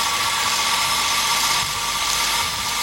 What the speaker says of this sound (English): we are seeing the mill in operation, making the flour